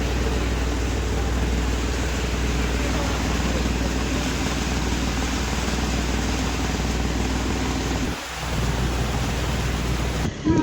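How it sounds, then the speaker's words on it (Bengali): Heavy rain pours steadily onto a boat in the Sundarbans forest, a dense continuous roar with a low rumble that briefly dips near the end, loud and close throughout. "বিশাল জোরে বৃষ্টি নেমেছে, বিশাল।"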